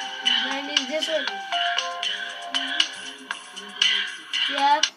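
A Samsung S3350 phone playing its ringtone, a bright electronic melody of repeated short notes sounding loudly up close, with voices talking over it.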